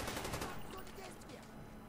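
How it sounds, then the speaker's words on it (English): Rapid pistol shots in Black Ops 1 multiplayer, a faint burst of quick cracks crowded together over the game's background noise. "I'm using a freaking pistol here"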